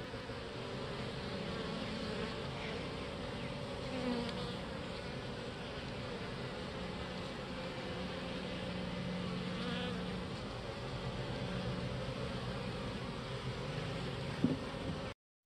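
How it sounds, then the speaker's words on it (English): Honey bees in a queenless nuc hive hum in a steady, dense buzz that holds at an even level throughout, close and continuous with no talking. "This is my queenless nuc"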